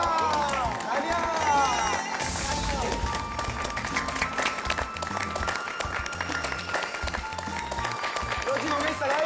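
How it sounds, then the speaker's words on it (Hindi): A crowd at an engagement ceremony claps and cheers steadily and loudly, with voices and babble mixed throughout. "Once again, तालियां! तालियां!"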